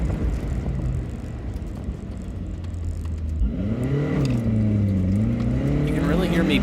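A Toyota MR2 Spyder idles low at an autocross start, then revs and bogs on launch, its engine note rising and wavering unevenly as the car pulls away, heard through steady background noise.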